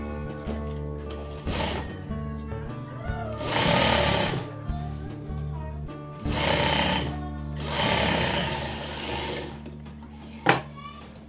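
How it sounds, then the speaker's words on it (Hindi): A sewing machine stitches palazzo pieces together in loud rapid bursts of whirring needle action separated by short pauses, with one sharp click near the end. "तो अब हम प्लाजो को सिलाई करते हैं"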